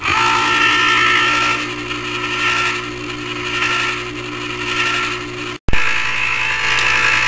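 An ice cream maker churns chilled dulce de leche sorbet mix, giving a steady loud mechanical whirring and grinding hum that cuts out briefly near the end before resuming.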